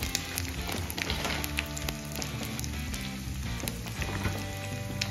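Green chilies, grated ginger, cashews and curry leaves fry in hot oil for a rice tempering, a dense continuous sizzle with crackling pops, close and fairly loud throughout.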